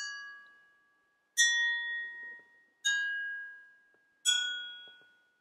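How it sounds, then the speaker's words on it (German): A pencil tapping gently against a drinking glass, four clear bright rings in sequence, each chime sustaining and fading slowly before the next strike, close and alone without talk. "ich schlage mit dem Bleistift vorsichtig gegen das Glas."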